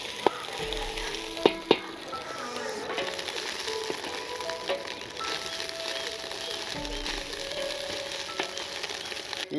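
Fish roe frying in a pan gives off a close, steady crackling sizzle, broken early on by a few sharp pops and spatula knocks.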